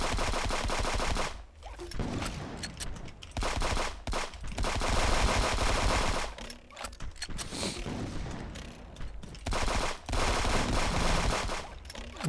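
Turret gunfire in a video game, dense rapid bursts of automatic fire rattling almost continuously, with brief gaps between volleys and a few heavier booms mixed in.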